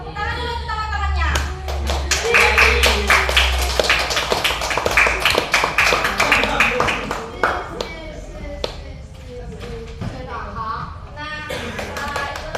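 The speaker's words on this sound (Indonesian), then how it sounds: "Tepuk tangan dulu untuk teman-temannya." Students in a classroom clap for their classmates during a micro-teaching lesson on addictive substances: a loud, brisk round of close hand claps with children chattering, fading into scattered claps and a teacher's voice.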